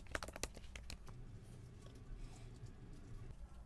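Quick clicks of typing on a computer keyboard, a short cluster of sharp taps at the start and then sparse faint keystrokes over a low background hum.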